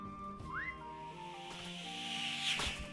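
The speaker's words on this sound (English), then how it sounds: "The fact that it whistles just adds so much more too." Magic daggers in Blade and Sorcery VR give a brief rising whistle through the air, followed by a sustained tonal whine and a faint hiss, heard alone over game ambience.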